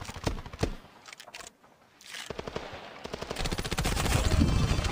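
Gunfire in the mobile shooter Standoff 2, with several bursts of automatic fire early on, a short lull, then sustained rapid shots growing louder toward the end.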